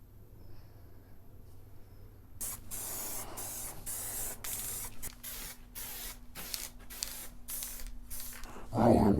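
Bursts of aerosol spray from a can lay red primer onto a Mini John Cooper Works F56 bumper, several close hissing passes separated by short pauses, after a quiet opening and with a brief knock at the end.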